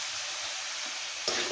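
Sliced radish drops into a pan of fried spices, setting off a steady broadband sizzle with a brief louder burst near the end.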